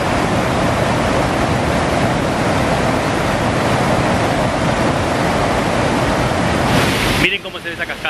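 Waterfall on the Zacate river in Pico Bonito National Park, a steady, loud broadband rush of falling water that holds constant for about seven seconds before dropping away abruptly near the end.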